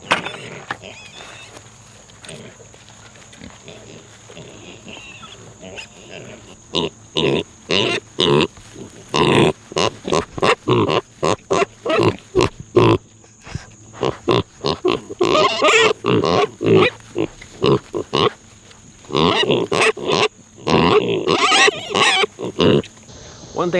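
Farm pigs grunting and squealing in rapid, choppy bursts at close range, with brief pauses between flurries, at a chicken workshop farm; the snorts and high squeaks overlap continuously.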